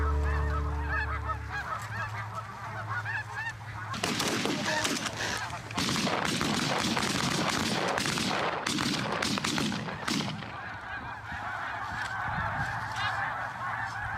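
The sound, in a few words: snow geese honking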